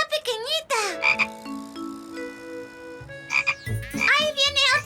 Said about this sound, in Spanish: ¡Mira! ¡Ranita! ¡Una rana pequeñita!